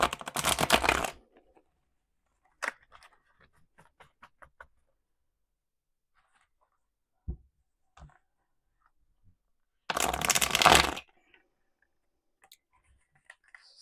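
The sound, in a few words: shuffling tarot cards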